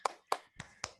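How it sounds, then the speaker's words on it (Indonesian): A class gives applause during a peer-teaching lesson: four separate sharp claps, evenly spaced and close, with quiet gaps between them. "Oke, tepuk tangan untuk semuanya."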